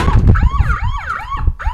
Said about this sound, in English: can activate the siren and the flashing light